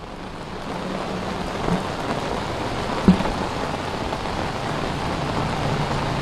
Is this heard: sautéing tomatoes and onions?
no